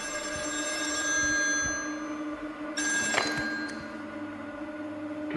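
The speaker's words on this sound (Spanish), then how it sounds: "Teléfono." An old-style telephone rings repeatedly in the horror game Still Wakes The Deep, set on an offshore rig, its bell bursts sounding close and clear over a low humming ambience with no speech.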